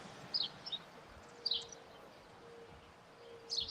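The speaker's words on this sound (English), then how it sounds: "Hear birds." A few faint, high bird chirps in scattered short bursts, separated by pauses, over a quiet, steady background hiss.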